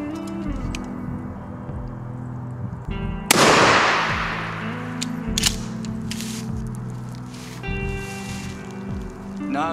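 A 12-gauge shotgun fitted with a Carlson's choke tube fires one sharp, loud blast of Winchester 00 double buckshot at a 15-yard target, following quieter handling noises, with a long decaying echo.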